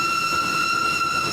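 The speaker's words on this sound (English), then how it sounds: "Oh, here's the train." Cartoon train arriving, a steady sustained tone with bright stacked whistle-like harmonics holding evenly over low rumble for just over a second, loud and alone.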